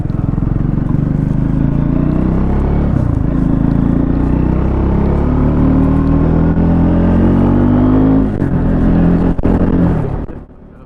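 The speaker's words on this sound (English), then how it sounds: "I go again with acceleration, and you'll get a sound of the bike as we do that" A Triumph 400X Scrambler motorcycle engine revs up loudly and continuously, pitch climbing as it accelerates, then cuts off abruptly near the end.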